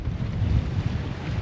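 Strong Atlantic wind on a sailboat at sea: a steady, low, rushing roar buffets the microphone throughout, with no voices.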